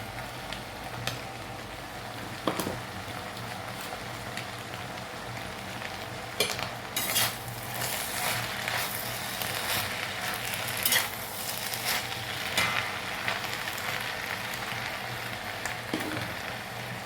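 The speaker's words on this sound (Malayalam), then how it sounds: "ഇതിലേക്ക് നമ്മൾ കുറച്ച് ചെറിയ ഉള്ളി കൂടെ ഇടും." Shallots tossed into a pan of frying ivy gourd, with a steady sizzle and occasional scrapes and clinks of a spoon stirring throughout, no voices.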